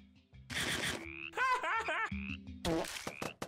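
A family of frogs croaks in the Minecraft video game: a burst of quick, rising croaks, then more calls a little later, clear and loud with no talking.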